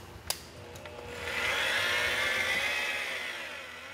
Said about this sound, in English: Typically, I'm going to buff around 1400 to 1600 RPM, but if I'm in a tight spot or around a fragile edge, I will slow down.